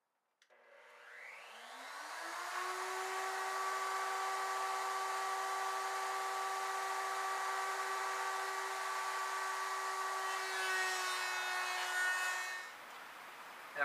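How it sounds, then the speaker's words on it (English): A router spinning a 1/4 inch round over bit on a router table shapes one corner of a small wooden Christmas ornament, a steady high whine that spins up, holds for about ten seconds, then winds down. "we're going to round over just one corner with a 1/4 inch round over bit on a router"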